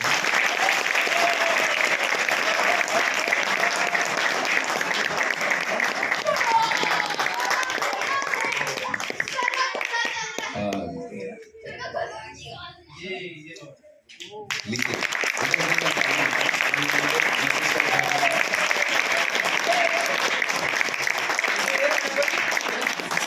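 An audience at a National School of Drama ceremony bursts into loud, sustained applause, dips briefly into a quieter stretch with voices, then swells back into full clapping.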